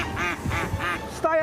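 Three loud, nasal quacks in quick succession, close by, followed by a short higher-pitched call.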